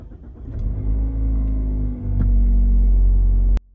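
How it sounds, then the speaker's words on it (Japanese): A Mazda6 Wagon's gasoline engine idles with a raised, elevated idle speed, a loud, close, steady low hum with a brief dip midway before settling again, then cutting off abruptly at the end. "アイドルアップは少しうるさいけど、ガソリン車の喜びが現代でも残っているような"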